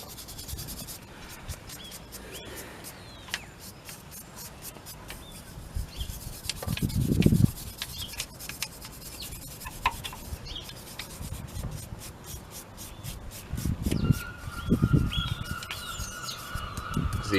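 Wire brush scrubbing rust from Renault Megane front brake parts, a steady dry rasping scrape with a few louder bursts of strokes, close up and alone.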